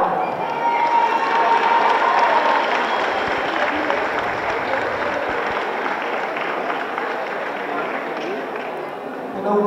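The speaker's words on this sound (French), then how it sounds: "on peut applaudir bien fort Léa." A crowd at a Miss Houblon beauty pageant applauds loudly and steadily with some cheering, the clapping slowly easing over several seconds while voices carry underneath.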